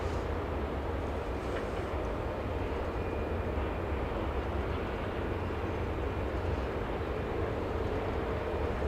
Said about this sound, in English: There goes the Sky West.